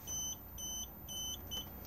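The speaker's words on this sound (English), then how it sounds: "if I press this, it's going to beep at us" Fridge control error beeps inside a 2018 Benimar Mileo 201 motorhome, a short series of faint, thin electronic bleeps in quick succession over quiet background hiss.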